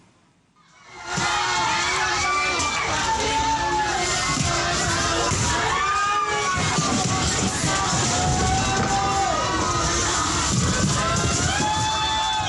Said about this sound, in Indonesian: Sejumlah penumpang panik dan berteriak histeris.